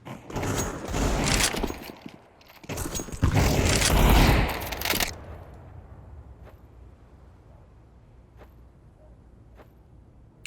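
Bursts of rapid gunfire from teammates in Counter-Strike 2, two dense loud volleys of shots in the first five seconds, then quieter scattered clicks and movement.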